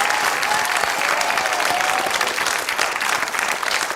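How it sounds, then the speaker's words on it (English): Studio audience on the game show Countdown giving a loud, sustained round of applause, dense steady clapping filling the whole stretch with no voices on top. "Give him a big round of applause"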